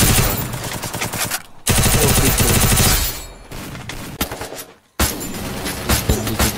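Gunfire in the mobile battle-royale game Free Fire, with loud sustained bursts of automatic fire broken by brief silent gaps and followed by further rapid volleys.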